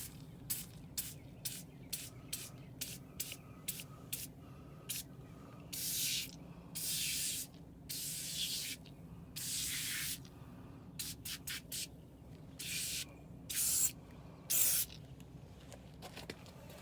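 Degreaser hisses from a spray bottle onto a bike, first in a quick series of short sharp squirts, then in longer sustained bursts with pauses between, close and clear.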